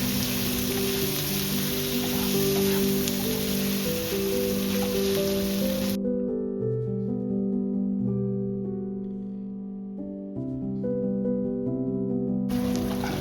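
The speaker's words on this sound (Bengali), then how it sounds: "এবার এই মাংসটাকে আমরা দিয়ে দিব আমাদের মেইন পাতিলে" Beef for a Bengali bhuna hits the hot main pot with a loud, steady sizzle, heard with background music playing throughout before the frying noise cuts out.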